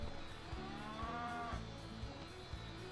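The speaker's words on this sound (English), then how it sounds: "Now I gotta wake this cow up." Cow mooing in the Shrek 2 PS2 video game, a drawn-out lowing call with a steady harmonic tone over continuous game music, loud and close.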